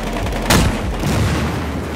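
A vehicle blows up in the shooter game Battlefield Hardline, a single loud booming blast that flares suddenly and then fades into a steady rumbling background of gameplay noise.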